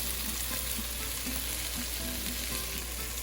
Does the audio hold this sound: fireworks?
no